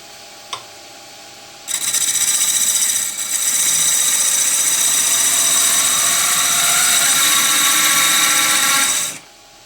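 A lathe-mounted Huon Pine goblet is cut down with a turning tool, heard as a sharp click and then a loud, steady scraping whine lasting about seven seconds before it stops abruptly, close and alone.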